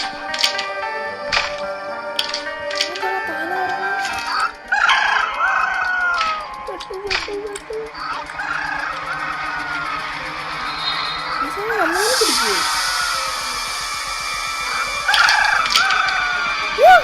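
Game chicken sounds from the horror video game Evil Nun 2: rooster-like crows and clucks come in several bursts over a steady background, with a person talking throughout.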